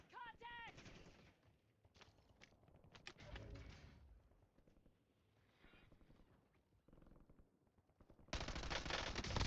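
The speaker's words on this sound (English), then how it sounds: "there's somebody shooting from up top." Gunfire in an online battle-royale shooter game, with bursts of shots early on and a loud sustained volley near the end, mixed with game effects and a player talking.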